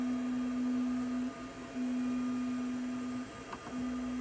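A Sovol SV08 3D printer running its first print, a steady whining motor hum with a sustained tone that briefly shifts pitch, close and without talk.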